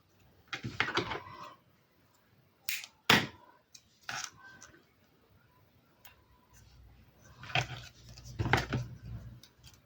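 Scissors snip at a craft project in a quiet room, a few short, crisp cutting sounds in small clusters separated by pauses.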